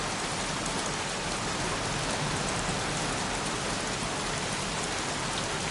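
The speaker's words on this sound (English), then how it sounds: "Jeez, won't this rain ever let up?" Steady, dense rain pours down evenly throughout in a PS4 video game, a continuous hiss with no voices or other sounds breaking through.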